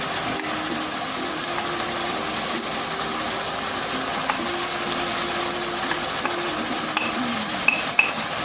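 Chopped onions and scallions fry in a pan with tomatoes, giving a steady, close sizzle and crackle throughout, with a few small clicks and stirring noises near the end.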